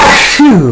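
A single short sneeze bursts out, close and loud, ending in a brief falling voiced tail.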